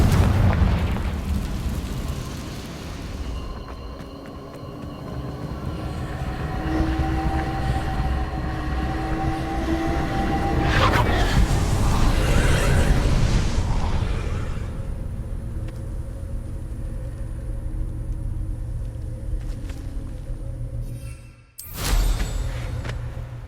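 A Confringo blasting spell in Hogwarts Legacy erupts into a long, heavy rumbling explosion that swells and roars for many seconds, then cuts off abruptly before a short final burst.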